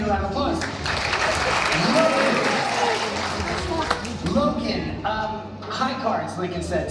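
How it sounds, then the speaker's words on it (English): Audience applause at a magic show at a basketball ceremony, a lively burst of clapping and cheering from a crowd that swells then tapers, with voices talking over it. "Give Lincoln a round of applause."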